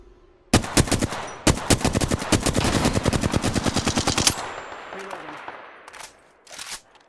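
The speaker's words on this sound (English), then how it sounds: "Opening fire." Rapid automatic gunfire in the battle royale game Apex Legends, a loud sustained burst of tightly spaced shots lasting several seconds, then a pause and a couple of shorter follow-up noises.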